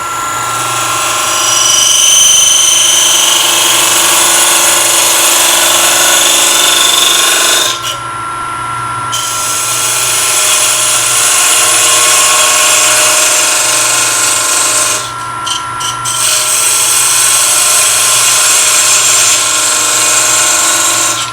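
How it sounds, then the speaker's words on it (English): A lathe parting tool cuts through a segmented wooden ring, a steady whirring, grinding hum that runs loud and close for the whole stretch, with two brief dips where the cut pauses. "I'm going to use a commercial parting tool this time, still a thin kerf."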